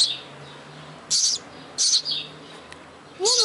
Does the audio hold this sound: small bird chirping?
yes